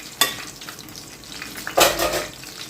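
Frying brinjals are pushed aside in a pan with a spoon, giving two short scraping strokes over a soft, steady sizzle.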